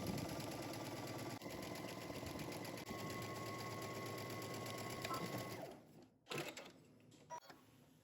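Sewing machine stitching a jumpsuit seam with a 5/8 inch allowance, running steadily and loudly for nearly six seconds before stopping, followed by a few brief handling noises.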